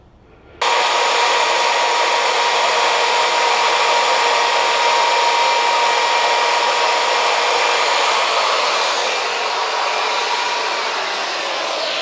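Router carving a wooden sign, a loud steady high-pitched motor whine starting abruptly and running continuously up close, with no talking.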